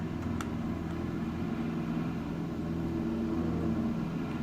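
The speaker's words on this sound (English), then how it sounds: "You can hear some of the cars revving up there." Engines of 1990s touring race cars on the Hockenheimring grid in a sim racing game, a steady low droning rumble with slight swells, continuous and moderately loud with no voices.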